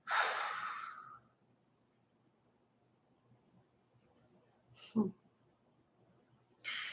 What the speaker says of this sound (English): One last time, take a deep breath in and blow it out.